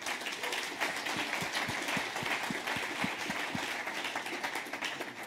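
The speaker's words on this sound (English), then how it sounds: "please give another very warm applause to Walter Prize" Audience applause for artist Walter Price at a DLD conference talk, a dense, even roar of many hands clapping throughout, with a few sharper distinct claps standing out in the middle.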